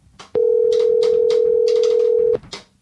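Telephone dial tone on a call, a loud steady tone holding for about two seconds and stopping abruptly, with faint clicks before and after.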